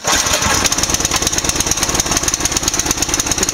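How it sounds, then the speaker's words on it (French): A model aircraft glow engine controlled by servos runs steadily, a loud, buzzing, rapid pulsing drone with a constant high whine, close by and unbroken, with no voices. "on allume le moteur et un petit coup, on règle la vitesse"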